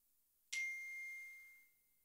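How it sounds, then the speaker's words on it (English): A phone's text message alert chimes once, a bright, clear ding that rings out and fades over about a second, with no talk over it. "Your phone went off."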